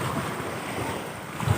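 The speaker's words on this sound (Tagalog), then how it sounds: "Lakas ng alon." Rough surf pounding a shoreline on a stormy day, a steady broad wash of breaking waves with wind rumbling across the microphone and a slightly louder surge near the end.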